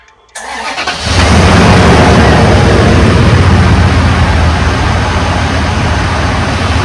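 A car engine cranks and catches, then settles into a loud, steady rumbling idle up close.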